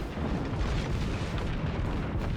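Warship main guns in World of Warships firing a volley, a dense loud booming roar that fills the whole short moment without a clear gap.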